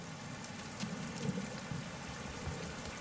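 Steady rain patters all around in an animated film, a soft continuous hiss of drops falling on surfaces, faint and even with no voices.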